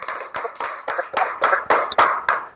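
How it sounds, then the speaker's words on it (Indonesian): Scattered claps from a small group of students in a classroom drama lesson, uneven and fairly close, about eight distinct bursts across a couple of seconds with no talking. "Berikan tepuk tangan untuk Grace."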